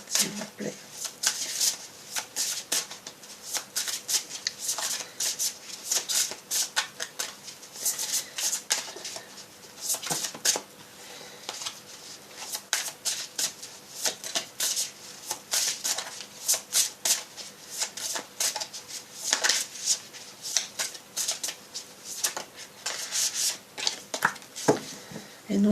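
Tarot cards shuffled by hand in a sustained run of crisp riffling and rubbing bursts, close and continuous.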